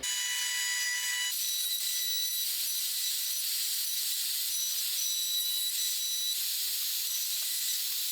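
Continuous, fairly loud rasping strokes of a hand saw cutting dovetail tails in wood with the help of an inexpensive dovetail jig, steady throughout with no talking.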